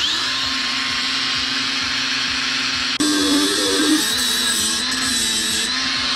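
A power cutter with a 4-inch blade cuts through metal pipe, a loud continuous high-pitched grinding whine with a sharper, harsher tone partway through as the blade bites in.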